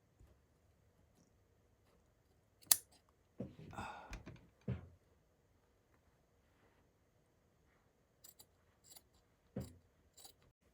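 Scissors cut fabric for a patchwork hoodie in a quiet room, with scattered close snips and rustles in short bursts separated by silence.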